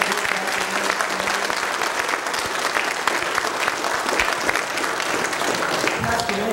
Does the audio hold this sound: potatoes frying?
no